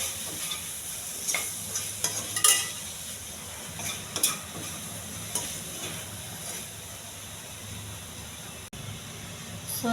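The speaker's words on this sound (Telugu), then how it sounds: "కోసి పెట్టుకున్న సోయా పన్నీర్ అండి ఇందులో వేసుకొని బాగా కలుపుకోవాలి." Soya paneer stirred in a pan with salt, turmeric and chili, a soft steady sizzle under scraping spoon strokes and occasional clinks of utensil against the pan.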